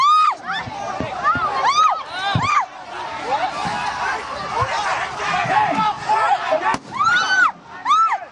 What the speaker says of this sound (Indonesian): ada beberapa suara dari kembang api yang dilemparkan ke arah massa aksi demonstrasi